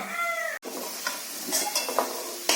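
Potatoes frying in a pan until red-browned, a soft sizzle with a few scraping stir sounds close by, a brief cut near the start, and no talk.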